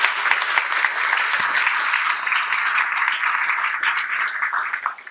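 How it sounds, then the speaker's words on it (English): Sustained, dense applause from an audience at an interfaith forum thanking a panel, steady and fairly loud, tapering off at the very end. "So keep the applause coming."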